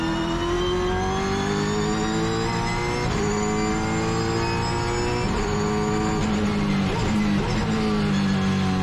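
A 2008 Holden V8 Supercar racing at Brands Hatch, its V8 engine roaring loud and close with steady high revs, rising pitch through acceleration and brief dips at gear changes.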